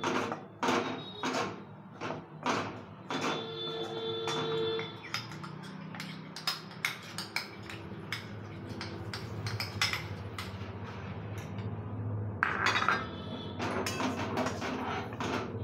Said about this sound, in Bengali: ঘিটা দিয়ে বেসনটাকে মিক্স করছে